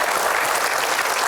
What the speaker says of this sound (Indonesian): Kita berikan aplaus untuk Tikus